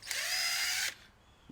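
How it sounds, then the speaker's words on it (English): Power screwdriver spinning briefly to release Phillips head plastic clips on a 2015 Chrysler 200C 2.4L engine, a short high whir lasting under a second, then stopping, followed by a faint click. "I'm going to try and use the Phillips head screwdriver to release those first"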